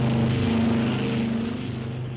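A World War II bomber taking off from a short carrier deck, a steady loud propeller-engine drone with a low humming tone, sustained throughout and slightly fading at the end, with no voices.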